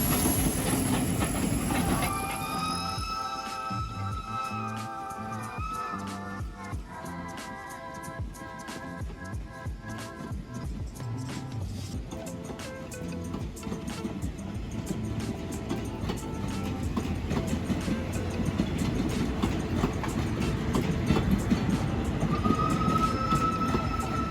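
Thai passenger train 901, Bangkok (Hua Lamphong) to Ayutthaya, rolls past loudly with steady rumbling, rhythmic clickety-clack of wheels and occasional high wheel squeals, continuous throughout.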